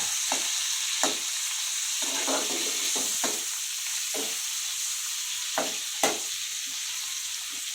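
Garlic, ginger, green chilies, onion and tomatoes fry together with a constant, even sizzle, broken by scattered hard clacks of a spoon stirring against the pan.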